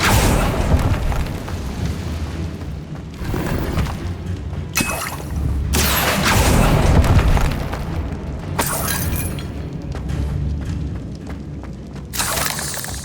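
Confringo explosion spell cast in the video game Hogwarts Legacy: loud, layered blasts and shattering crashes with deep booming rumble, several bursts across a busy stretch of game combat audio.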